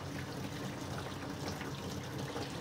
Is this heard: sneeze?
no